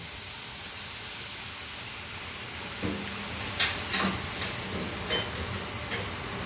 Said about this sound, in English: Now you deglaze the pan with the Marsala wine